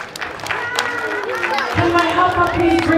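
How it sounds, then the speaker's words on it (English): A crowd at a birthday celebration applauds and cheers the winner of a biscuit race, with scattered claps and whoops mixed with music and voices throughout. "Everyone give him a round of applause"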